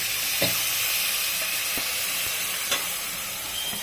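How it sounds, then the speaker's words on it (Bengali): Prawn and cauliflower masala with potato sizzles steadily in a pan after water is added, a dense close hiss with a few faint stirring clicks and no talk. "এখন আমি একটু জল দিয়ে দিব।"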